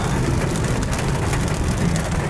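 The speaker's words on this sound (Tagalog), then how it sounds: "Ayan, umuulan mga kababayan." Steady rain pours down during the rainy season, a dense, continuous patter on surfaces heard close by with no talking over it.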